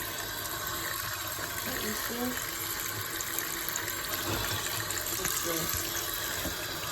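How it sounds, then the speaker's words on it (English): Water runs steadily from a tap in a sink while raw chicken is washed, a continuous splashing hiss with faint handling sounds underneath. "Guys, time to wash the chicken."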